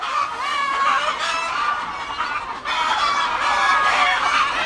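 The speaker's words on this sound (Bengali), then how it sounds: "মুরগিগুলা আমাকে দেখে অতিরিক্ত চিল্লাপাল্লা করতেছে" Parent-stock chickens, including a roosters of the Banaraja breed, cluck and squawk loudly and continuously in a poultry shed, with overlapping agitated calls and crowing from several birds close by.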